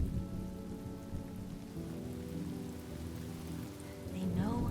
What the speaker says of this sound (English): With the aid of this rain, they will come to destroy our wagons